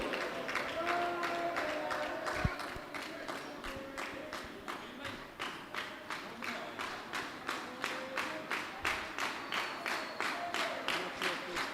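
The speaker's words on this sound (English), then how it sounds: "Spectators can hear the clapping." Spectators at a junior cricket match clapping steadily, settling into a slow rhythmic beat after a denser opening, fairly distant, with a few faint voices and thuds underneath.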